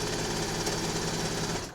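A sewing machine stitching a quarter-inch seam that attaches binding to a quilt, a fast, even mechanical chatter of the needle running continuously, close and loud, then stopping abruptly at the end.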